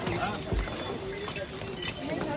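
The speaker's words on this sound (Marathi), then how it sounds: "हे बघा तिकडे घोडे चालले." Horses walk along the mountain trail to Kedarnath, their hooves clip-clopping faintly and irregularly under a busy background of voices and crowd noise.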